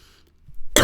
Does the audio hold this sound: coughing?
yes